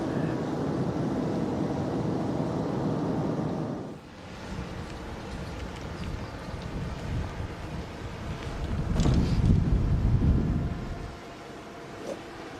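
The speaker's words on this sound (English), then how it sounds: "the wind speeds have just increased a lot more" Wind buffets the microphone on a golf course with a low rumbling roar that dips briefly and then swells again, steady and close.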